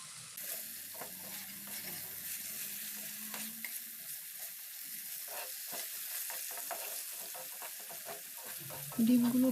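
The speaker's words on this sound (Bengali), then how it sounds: "ডিমগুলো ভালোভাবে মশলার সাথে নেড়ে ছেড়ে ভেজে নেব।" Boiled eggs stirred and fried in a spice masala sizzle steadily in the pan, with repeated scraping and clattering stir strokes close up throughout and a louder scrape at the very end.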